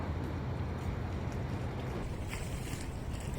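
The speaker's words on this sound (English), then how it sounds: "You can hear the water lapping up here on the side." Water laps against the side of a boat out on open water in a steady, continuous wash, blended with gusty wind noise on the microphone.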